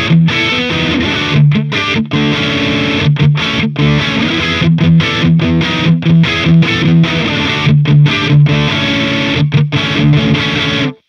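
An 80s rock electric guitar tone through the AmpliTube 5 Brit V3 speaker model plays a loud, driven, distorted riff of choppy chords and short palm-muted stabs with brief gaps, ending abruptly.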